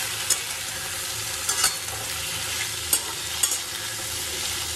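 Steamed potato, pumpkin and other vegetables stir-fry in a pan, with a steady close sizzle broken by several sharp scraping clacks of the spatula, and no one speaking.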